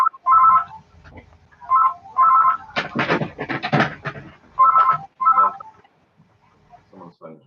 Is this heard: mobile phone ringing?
yes